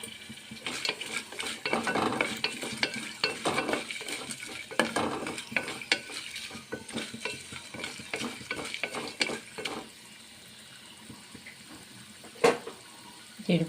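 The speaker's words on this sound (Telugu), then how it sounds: "జీడిపప్పులు వేగుతున్నాయి కదండి" Cashew nuts frying in a pan, a continuous soft sizzle broken by frequent scraping stirs of a spoon, close and fairly quiet, easing off toward the end with one sharp knock.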